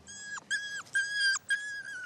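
Dogs on a French Polynesian atoll whimper and yip in a series of four high, drawn-out whines with short gaps between them, fairly faint and with no voices.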